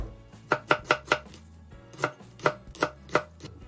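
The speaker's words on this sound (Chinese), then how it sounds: "最后啊，咱们再将洋葱切丝。" A kitchen knife chops an onion into strips on a cutting board, firm evenly spaced thuds in two short runs of four with a pause between, close and clear with no talking.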